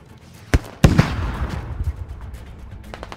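Gunfire in the military shooter game Squad, two sharp reports near the start, the second heavier and followed by a rumbling tail and scattered distant pops fading out.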